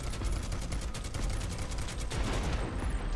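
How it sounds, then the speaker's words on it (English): Rapid gunfire in Final Fantasy VII Rebirth, shooting at a boulder: a continuous burst of fast, evenly spaced shots rattles for about three seconds at moderate level, with a brief change in texture near the end. "Shoot the boulder."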